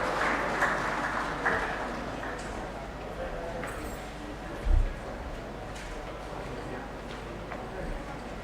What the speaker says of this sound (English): Let's clap for them whilst they mount up the stage for the group photo